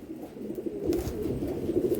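Pigeons of Malwai, Madrasi and Regdar breeds coo softly in a low, steady murmur inside a pigeon loft, close by and continuous, with no talking.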